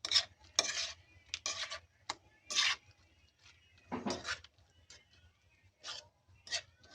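Orange chicken being stirred into its sauce in a pan: quiet, intermittent scraping and wet stirring strokes, close up, separated by brief pauses.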